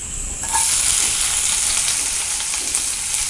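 Onions and curry leaves hit hot oil in a kadai for a prawn pepper fry, bursting into a loud, steady, close sizzle that hisses on without pause.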